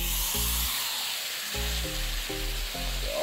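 Roast beef dropped into a preheated skillet, giving a steady loud sizzle and hiss throughout with a few low thuds as the meat settles and is pressed down, no talking.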